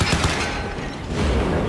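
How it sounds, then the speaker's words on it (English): Gunfire in the Crysis 3 shooter game comes as a rapid, dense burst of loud shots, easing briefly midway before swelling again, with no talk over it. "Shit, somebody's shooting."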